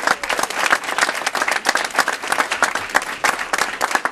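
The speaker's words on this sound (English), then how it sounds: "let's have a round of applause" An audience applauds at a mayor's announcement of a city development agreement, dense, loud clapping that holds steady throughout.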